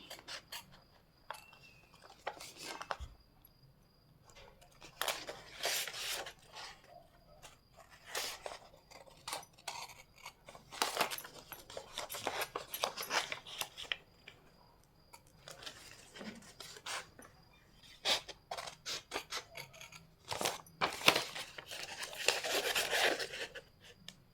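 Scissors snip through cloth during tailoring cutting practice, a long run of quiet, crisp cuts and rustles that come in irregular clusters separated by short pauses.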